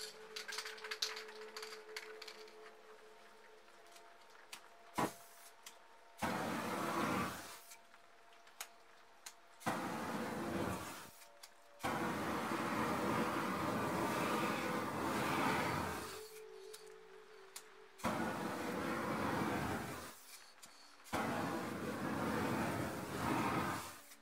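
A flame torch dries spray paint in several long bursts, each a steady loud roaring hiss lasting a few seconds, separated by quieter gaps with faint handling noises.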